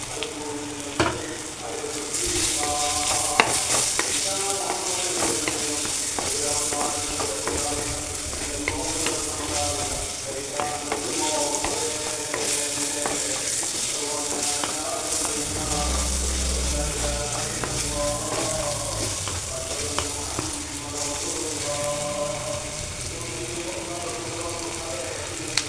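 Tomatoes frying and being stirred in a pan for a spicy Kerala-style Maachaan fish curry, a steady dense sizzle running throughout with scraping stir strokes on top, plus a low thud near the middle.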